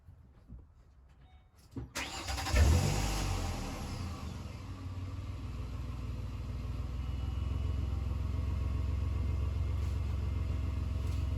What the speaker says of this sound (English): So I'm going to go turn the vehicle on real quick.